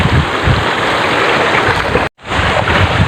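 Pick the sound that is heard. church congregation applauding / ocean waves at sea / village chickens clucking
ocean waves at sea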